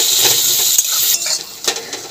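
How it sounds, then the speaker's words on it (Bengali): Onions frying in a pan of hot oil for a prawn curry, a dense, loud sizzle with a few scraping stirs of a utensil against the pan. "ভালো করে পেঁয়াজটা ভেজে নেব"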